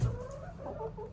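Backyard chickens give soft, close clucks and murmurs in a coop after laying eggs, low and steady over a short moment with no talking.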